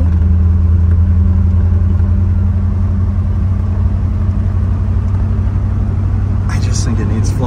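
A 1970 Chevrolet Corvette L46 convertible with a 4-speed manual idles close by, its steady, loud, deep rumble continuous throughout, with people talking over it and a brief higher clatter near the end.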